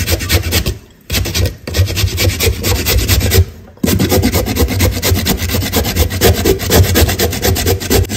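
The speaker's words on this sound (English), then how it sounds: "so we are also grating our cassava" Cassava grated by hand on a grater for a cassava coconut cake, a loud, close, continuous rasping scrape in quick rhythmic strokes with two brief pauses.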